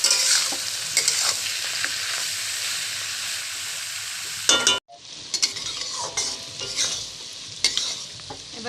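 Food frying in a pan with salt, stirred repeatedly: a steady loud sizzle with scraping strokes, a brief cut near the middle, then more stirring over quieter frying.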